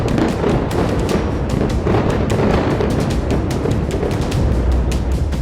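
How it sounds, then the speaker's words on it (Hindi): Dense, continuous rumbling and crackling bursts from bombs exploding over Beirut during Israeli air strikes, loud and sustained with no pauses. "बैरूत के आसमान में इजरायली बम ऐसे फट रहे थे जैसे दिवाली पर पटाखे फूटते हैं"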